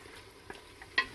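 Minced chuck roast browns in a hot pan with a soft, low sizzle, broken by a couple of brief scraping clicks as the fatty meat is stirred.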